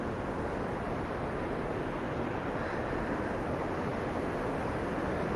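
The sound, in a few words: rushing river water in Dean Village, Edinburgh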